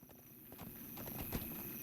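Horse hooves clip-clopping in the Lord of the Rings Online video game, a configured speedy Rohan war steed being ridden, with quick, regular, quiet hoofbeats and a faint steady background.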